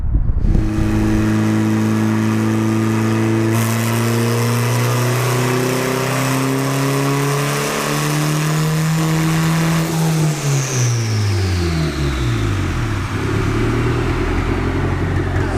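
A Honda Integra VTEC engine on a dyno revs hard and climbs through a long, loud pull, its pitch rising steadily before dropping sharply as it backs off near the end.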